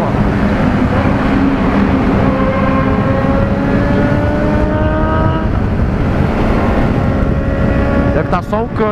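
A Yamaha FZ6N motorcycle with a loud exhaust, one of two bikes carrying passengers, roars up close with rising engine tones as it accelerates, heavy wind-like roar throughout and voices mixed in.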